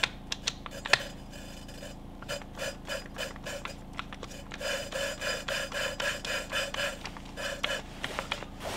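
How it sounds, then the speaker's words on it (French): A rhythmic rasping grind repeats in short strokes as an engine valve is hand-lapped onto its seat, steady back-and-forth scraping of metal on metal, close up, with no talking. "tu dois entendre quand la soupape se rôde"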